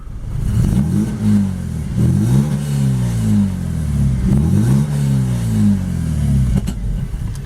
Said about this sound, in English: Exhaust sounding nice and not blowy.